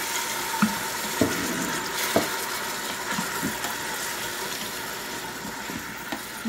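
Chopped vegetables sauté in olive oil in an Instant Pot, giving a steady, moderate sizzle with occasional sharp clicks and scrapes from stirring scattered throughout.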